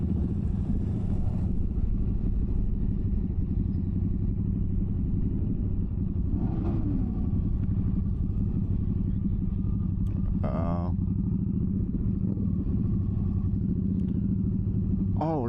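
Harley motorcycles rumble together at a Harley event and cruise, a steady deep low throb of idling engines with occasional brief revs rising above the drone, close and continuous.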